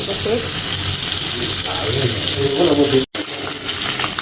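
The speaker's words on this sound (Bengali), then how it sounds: "মাছগুলোকে উল্টে পাল্টে ভেজে নিচ্ছি" Fish fries in a pan with oil, a loud, steady broadband sizzle and hiss much like running water, with a brief cut in the sound near the end.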